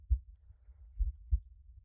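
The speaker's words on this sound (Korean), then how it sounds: "그 노인의 심장박동 소리가 점점 더 크게 들려왔습니다" A low heartbeat sound effect plays in isolation, a deep muffled thump-thump pulse repeating a few times at a slow, steady pace.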